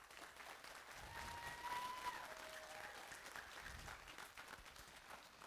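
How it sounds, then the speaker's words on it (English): A crowd applauds steadily for several seconds at a percussion concert, a dense wash of clapping at moderate distance with a few faint tones ringing through. "Let's give a round of applause to our seniors."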